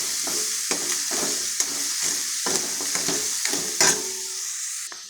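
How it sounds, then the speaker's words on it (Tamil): Ingredients sautéing in a pan for crab gravy: a loud, even sizzle with rhythmic stirring scrapes roughly every half second, easing off at the very end. "இதை கொஞ்சம் வதக்கிக்கலாம்"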